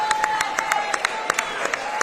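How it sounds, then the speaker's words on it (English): Scattered crowd clapping at a live boxing fight night, distinct claps in an irregular patter, moderately close, with a steady tone running underneath. "a round of applause for both boxers who gave their all"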